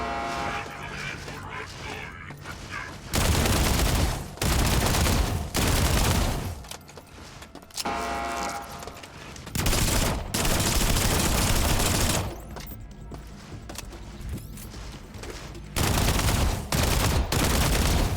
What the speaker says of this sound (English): This assault rifle is pretty decent.